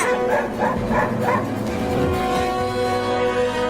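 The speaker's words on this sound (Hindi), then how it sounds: "एक कुत्ता जा रहा है चिंटुआ को काटने के लिए" A dog gives a quick run of yipping barks, four or five close together at the start, then lower whimpering and grumbling sounds, close and fairly loud.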